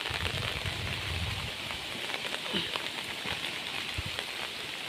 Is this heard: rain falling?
yes